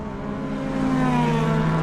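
Number 79 race car pulling out of pit lane during a TSS 2025 session, its engine note holding a steady tone that swells slightly as it accelerates away, loud and close, with no talk over it.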